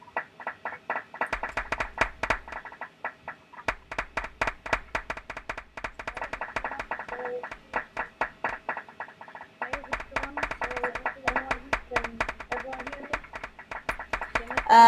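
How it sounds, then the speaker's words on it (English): Audience applause at an information seminar, scattered hand claps in bursts that fade and resume, fairly close, with a voice speaking over parts of it. "Round of applause for Christopher."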